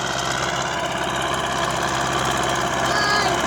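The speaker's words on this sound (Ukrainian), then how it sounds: "Подходь, отходь, синочок, трактор їде." MTZ 80 tractor on rubber tyres pulling a plough across a field, a continuous mid-pitched diesel engine rumble with knocking vibration, steady and fairly close.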